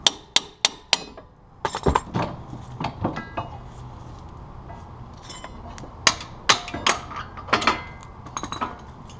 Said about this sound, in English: I'm using a ball joint separator tool to get the knuckle removed from the lower control arm.